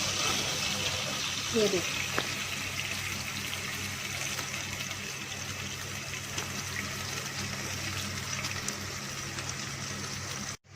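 Two cups of water are poured into a pan of whole spices frying in oil, giving a steady hiss and bubbling simmer that continues evenly throughout, with someone speaking briefly near the start.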